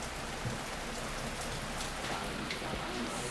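Steady rain falls continuously, a dense hiss of drops patting on surfaces with no pauses and no voices.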